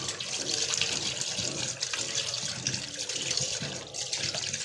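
Cut pieces of fish are washed under a running tap, giving a steady, loud rush and splash of water that continues throughout with slight shifts in the flow.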